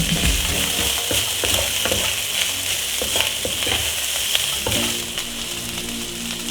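Eggplant and minced pork stir-frying in a hot wok give a continuous loud sizzle, with scraping and stirring clatter from the utensil throughout.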